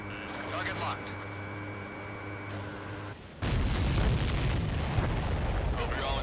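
Explosions and heavy booms from the Ace Combat 7: Skies Unknown flight game, a steady rumbling bed that erupts into a loud, dense blast about halfway through and keeps roaring.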